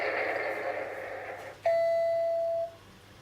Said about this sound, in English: 3 beeps means it wants me to hit zone 3